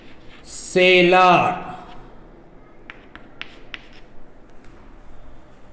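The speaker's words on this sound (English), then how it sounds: "So we write here for wholesaler." A pen writes out wholesale tax invoice figures during a classroom lesson, a voice briefly talks first, then faint scratchy strokes and light taps come in short bursts through a quiet stretch.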